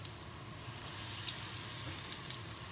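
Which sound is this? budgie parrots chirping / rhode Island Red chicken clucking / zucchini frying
zucchini frying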